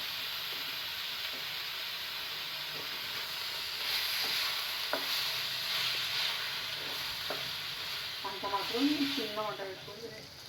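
Tamarind juice being stirred into a pan of frying bitter gourd, steady sizzle with repeated scraping strokes of a spoon and a burst of louder stirring near the end.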